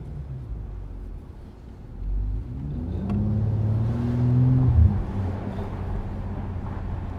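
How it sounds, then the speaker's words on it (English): Mercedes-AMG CLE 53 engine revving with the exhaust button activated: a low, rumbling exhaust note that climbs through a couple of rising revs, peaks, then settles back to a steady idle, close and fairly loud. "So there is this exhaust button over here, so you press it and it will be activated. And you have a little bit more exhaust sound"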